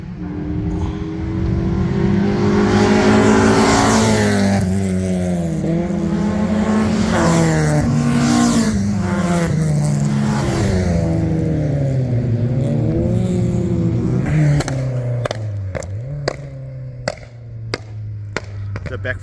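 Opel GSI Superboss cars rev and race at an owners' gathering, engines rising and falling in pitch up close and loud, followed by a string of sharp backfire pops as one car passes.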